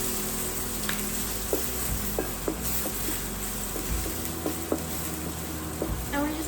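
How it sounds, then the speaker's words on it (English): Ginger sizzles steadily in a hot pan, with a constant frying hiss broken by frequent light clicks and taps of a utensil stirring it, close and moderately quiet. "I'm just gonna go ahead and fry up the ginger first"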